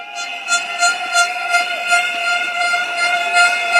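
A crowd at a PAP general election rally at Yishun Stadium, Singapore, in 2025, blowing air horns: loud, sustained, blaring tones that pulse in uneven bursts, filling the whole stretch with no talking.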